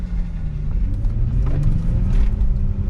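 A rental car on a road trip through Colorado and Utah accelerates hard, its engine rumbling loudly and steadily close by, with no talk.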